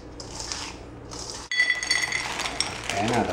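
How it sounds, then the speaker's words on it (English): A spoon scrapes and clinks in a bowl of thick chocolate brownie batter, with soft clatter and light taps, while people talk quietly over the stirring. "Is it getting harder to stir?"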